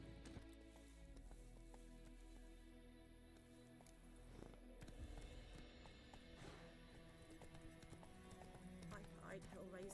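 A horse clip-clops along in The Witcher video game, steady hoof beats with an occasional whinny, faint under game music and speech.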